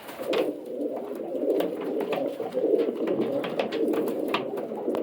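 Staropolskie pigeons coo in low, throaty murmurs, several birds overlapping continuously, with scattered clicks and flutters nearby and no talking.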